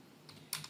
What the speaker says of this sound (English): So all you have to do is just type in ADB